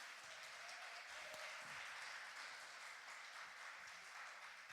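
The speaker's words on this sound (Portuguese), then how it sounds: "aplauda o Senhor bem forte." A church congregation applauding the Lord, steady dense clapping from many hands filling the room evenly, moderately distant and without speech.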